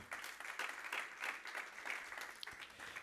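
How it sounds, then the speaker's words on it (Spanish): Church congregation clapping for the Lord during a sermon, steady broadband applause from many hands filling the room without pause, moderately faint and heard alone. "Dale palmas al Señor"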